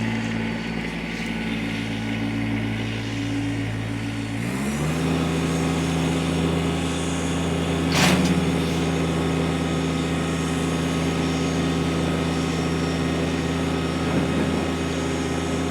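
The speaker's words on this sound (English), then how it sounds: "I'm going to go ahead and fire this tractor up." A 2018 Kubota BX1880 sub-compact diesel tractor engine cranks and catches, then settles into a steady, loud idle with a deep rumbling hum that runs continuously.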